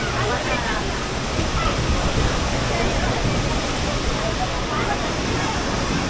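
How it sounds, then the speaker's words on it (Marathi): Katrapur waterfall, fed by water from two villages and nearby fields, roars as a steady, dense wash of falling water throughout, with no pause or change. "हा आहे कात्रापूरचा धबधबा"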